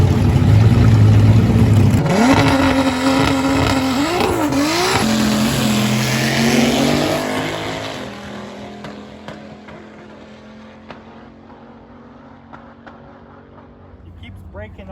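Turbocharged VR6 Golf MK2 at a dragstrip launching and accelerating hard under full throttle, engine climbing through gears loud and close, then fading into the distance as it pulls away.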